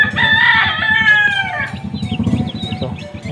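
A labuyo rooster crows loudly and close by, one long drawn-out call that fades out, followed by low clucking and barnyard rustle.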